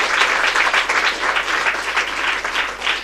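Dense, steady applause from a large audience cheering the painters at a temple consecration ceremony, a loud continuous wash of clapping with no voices on top.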